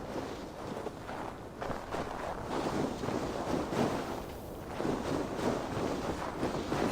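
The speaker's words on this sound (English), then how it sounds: "Windy. Storm coming." Blustery wind before an approaching storm in Assassin's Creed Valhalla, a loud, steady roaring rush that surges and eases in gusts throughout.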